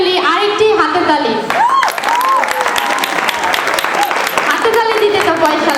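An audience at an Easter 2013 stage program claps after a jari song performance, a dense sustained round of applause under a voice speaking near the microphone at the start.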